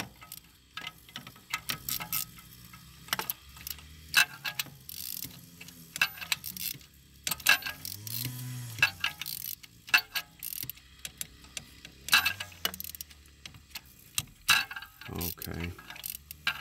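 A ratchet clicks in short irregular bursts while a spark plug is tightened in a Jeep Wrangler engine, quiet and close, with faint mechanical clatter and pauses between strokes.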